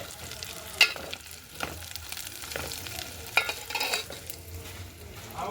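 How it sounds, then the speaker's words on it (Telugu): Food frying in hot oil in a pan while cooking masala for gongura chicken curry, a steady close sizzle with a few sharp crackles and stirring scrapes, no voices. "నేనైతే నా కోసం కొంచెం ఫ్రై చేసుకుంటున్నాను చూడండి."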